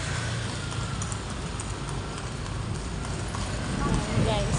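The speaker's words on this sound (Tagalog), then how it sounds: "So, ang daming horse." Horses clip-clop along a street in Intramuros, Manila, their steady hoof beats close and continuous over city background noise, with people talking throughout.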